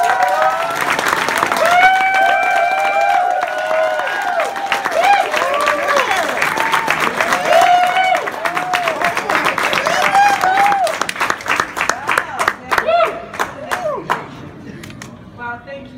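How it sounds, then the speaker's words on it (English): A convention Q&A audience bursts into loud, sustained applause with whoops and cheering voices over the clapping, which thins out toward the end. "please, everybody stand and give a big round of applause for it."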